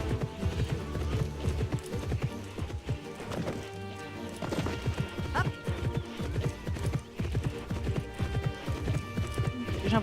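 Rhythmic clip-clop of horse hooves in the video game Alexandra Ledermann, with repeated thudding strides, a neigh, and background game music throughout.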